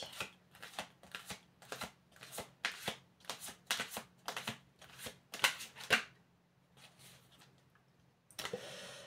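Card shuffling: a deck is riffled in about a dozen quick, crisp bursts at a steady rhythm, close and fairly quiet, ending in a brief pause and a final ruffle.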